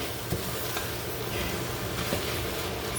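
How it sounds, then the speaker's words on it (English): Beef biryani base sautéing in a pan gives a steady, even sizzle with soft crackle throughout, close and moderately loud, no voices. "This is sauteing very good here."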